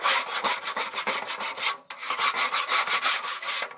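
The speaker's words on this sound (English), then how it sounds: "And again, you just scrape it," Grease buildup being scraped off the parts of a Char-Broil infrared grill, a loud, close, rhythmic rasping in quick repeated strokes, two bursts with a short pause between them.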